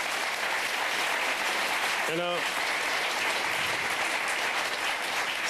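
TV studio audience on a French Sunday talk show applauding steadily throughout, a dense wash of clapping with a brief spoken word rising over it midway.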